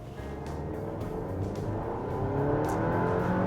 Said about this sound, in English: the engine sounds like a little like, it feels like it's desperate or like struggling to make power